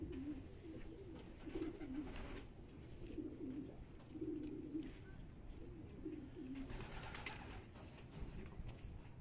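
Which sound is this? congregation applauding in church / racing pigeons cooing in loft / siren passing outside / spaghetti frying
racing pigeons cooing in loft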